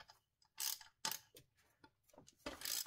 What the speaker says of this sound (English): Now removing the second bolt for the tensioner